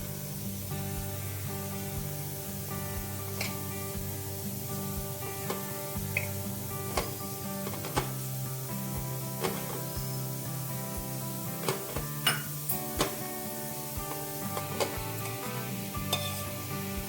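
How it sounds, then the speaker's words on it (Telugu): Quiet, irregular stirring and soft knocks of flour dough being mixed with water in a bowl, scattered light clicks over a steady low hum. "కొంచెం వాటర్ పోసుకొని ఇప్పుడు కలుపుకుందామండి."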